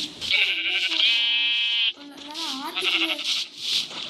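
Sheep in the Minecraft video game bleating in short wavering calls, several bleats in succession, clear and close with no voices.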